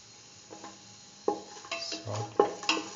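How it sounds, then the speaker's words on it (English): Shallots tossed into a pan and stirred for a lentil pumpkin stew, with a soft sizzle under light, irregular scrapes and clinks of a utensil against the cookware, growing busier toward the end; no talking. "Put in the shallots"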